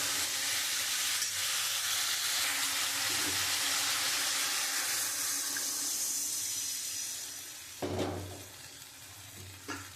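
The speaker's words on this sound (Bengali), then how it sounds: "এবার আমি পরিমাণ মতো জল দিয়ে দেবো।" Water pouring into a pot of fish curry with koi fish, cauliflower and flat beans, a steady loud rushing and sizzling hiss that fades after several seconds, followed by a couple of clunks, close by and with no speech.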